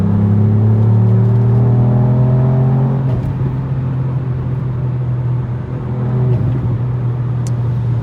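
Ford Fiesta ST MK8 engine fitted with an aftermarket exhaust produces a loud, steady, close-up drone with a rich harmonic tone, shifting slightly in pitch as the revs change, with no talking.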